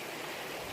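A river rushing at a trail crossing near the Lebanese border on the Israel National Trail: a dense, steady wash of flowing water, close and constant, with no voices.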